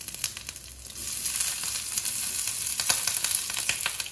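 Oil sizzling steadily as ingredients fry for coto makassar, a continuous crackling hiss with sharper spits, close and loud with no talking.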